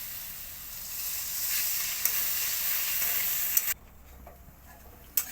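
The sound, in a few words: water added to hot oil in cooking pan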